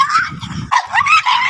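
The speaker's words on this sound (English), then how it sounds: "Puppy." A puppy gives a quick run of short, high yips and barks up close, mixed with whimpery squeals and low snuffling sounds.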